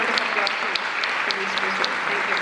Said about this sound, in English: Kindly join us in giving another well-deserved round of applause